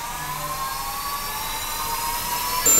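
A turbojet engine fitted to a bicycle is ignited at full throttle, producing a sustained close whine with a hiss that builds slowly and then jumps louder right at the end.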